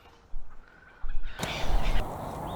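Canada goose, ducks and other waterbirds being fed bread at a pond, with short honks and quacks that start sparse and grow busier and louder partway through, close by, over soft outdoor background.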